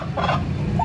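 A large turkey gobbles in a short burst at close range, a warbling call rising near the end.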